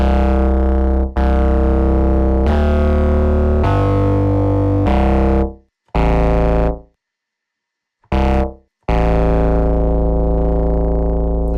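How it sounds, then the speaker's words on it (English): Heavily distorted, saturated bass guitar tones from a tube distortion effect, played in sustained notes, gritty and buzzing, with brief silent gaps between phrases. "it adds distortion and saturation"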